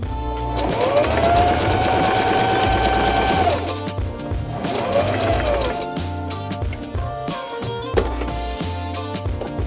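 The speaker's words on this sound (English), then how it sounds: "So we're gonna sew along this dart to give us a bust. Let's sew these 2 darts." Sewing machine stitching darts in a thrifted garment being altered, close and steady, running in two long bursts with a pause between them, then a few short clicks and whirs.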